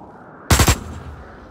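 A rapid burst of three or four pistol shots in the video game Osiris: New Dawn, loud and sharp, then a quiet room tone.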